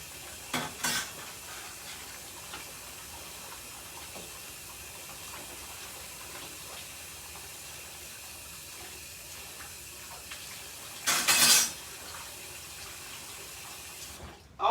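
Bacon frying in a pan for fried potatoes, a steady low sizzle running throughout, broken by a couple of brief louder clatters or splashes near the start and toward the end.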